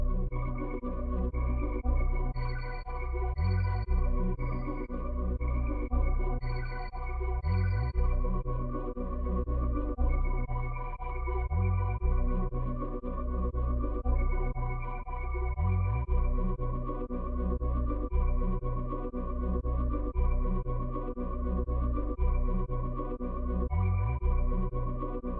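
A dark ambient loop, pitched down and sliced, plays as a dense, murky pad with a low, pulsing rhythm repeating every few seconds and faint high tones drifting on top, steady and with no speech.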